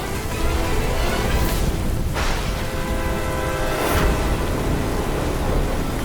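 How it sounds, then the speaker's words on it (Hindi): Heavy rain pours in a constant loud wash while thunder cracks and rumbles twice, the second crash near the end, with no one speaking. "हे भगवान, ये बारिश कैसे आ गई हमारे लिए?"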